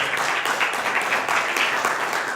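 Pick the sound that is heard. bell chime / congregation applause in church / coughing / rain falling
congregation applause in church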